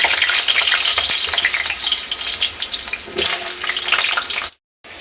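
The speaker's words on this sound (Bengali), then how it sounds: "তেলটা গরম হয়ে গেছে আবার তেল দেওয়া হয়েছিল এবার আলুগুলোকে ভালো করে ভেজে নেবো" Potatoes fry in hot oil for chicken biryani, a loud, dense, steady sizzle close by with occasional stirring, cutting off abruptly just before the end.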